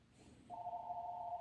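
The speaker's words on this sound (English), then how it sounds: "Oh, the phone's ringing." A telephone begins ringing indoors, a single steady electronic tone that sets in partway through and holds, fairly faint against quiet room noise.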